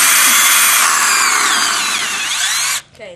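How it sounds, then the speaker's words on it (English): A handheld electric power drill bores through metal while building a homemade welder, a loud, steady high-pitched grinding whine that holds for nearly three seconds, then cuts off abruptly into near silence. "this is what you do after you drill all the way through"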